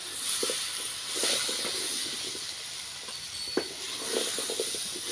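Cut cassava pieces hit a pan of hot masala for a spicy kara kuzhambu, producing a steady sizzling hiss. Soft scraping and clinking from stirring come through intermittently, close by and at moderate volume.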